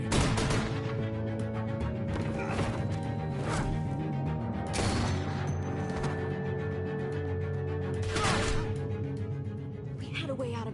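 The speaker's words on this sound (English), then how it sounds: "I hear gunfire." Several sharp gunshots crack out at irregular intervals in The Walking Dead video game, each a sudden loud burst over a sustained tonal background.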